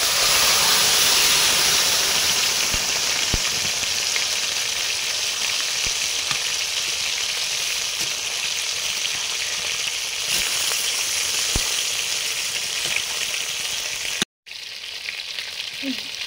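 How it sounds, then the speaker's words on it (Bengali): Boiled vegetables and lentils poured into a hot pan give off a loud, steady, close sizzling hiss that runs almost unbroken for the whole stretch, cutting out briefly near the end, with no one speaking. "সেদ্ধ করে ঘন্টের সবজি ডাল ঢেলে দিলাম।"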